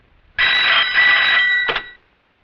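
A telephone rings at a police station, with one loud, close, sustained electronic bell burst of about a second and a half, a brief break, then the ringing cuts off, with no talking.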